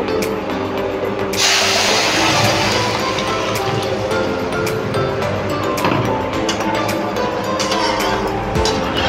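Fish curry broth pours into hot tempering oil for a Bengali katla fish curry, setting off a loud, sustained sizzle and spatter that roars close up and continues steadily throughout.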